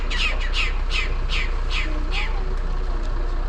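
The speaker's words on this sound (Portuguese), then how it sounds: "depois do canto desses gaviões" Hawk calls in Tierra del Fuego National Park, Ushuaia: a run of six sharp, squawking cries in quick rhythm, fairly close and loud, over steady outdoor background noise, then quieter trailing sounds.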